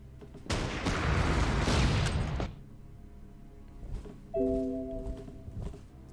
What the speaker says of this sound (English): And now we can use the additional artillery to do some damage.